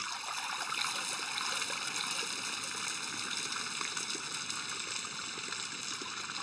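Water drains steadily from an animal trough after its plug is pulled in a video game, a continuous close trickling and gurgling flow that stays even throughout.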